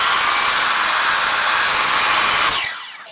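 A miter saw slices through wood during stair refinishing, a loud, close, sustained high whine lasting a few seconds before the blade spins down and fades.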